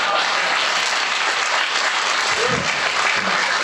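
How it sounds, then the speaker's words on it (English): A live audience at The Adam Carolla Show bursts into loud, dense applause that stays thick and unbroken throughout a few seconds. "I like that you guys applaud"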